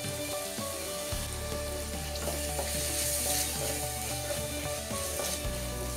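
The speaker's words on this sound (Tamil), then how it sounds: "இதில் நம்ம ஒரு தக்காளி பொடி பொடியாக நறுக்கி சேர்த்துக்கலாம்." Finely chopped tomato sizzles and fries in a pan with ginger-garlic paste for a Tamil country chicken curry, a loud continuous crackling sizzle with occasional stirring scrapes and no talk.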